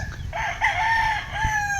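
A rooster crows loudly and close by at a cockfighting farm, a drawn-out cock-a-doodle-doo in two rising and falling phrases with faint clucking underneath.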